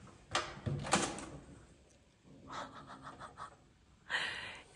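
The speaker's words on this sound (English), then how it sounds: "The self-opening door is really freaking me out." A self-opening door at a dog-friendly hotel and spa swings open with soft mechanical shuffles and thuds in a few separate bursts, close by in a quiet corridor, with light breathing between.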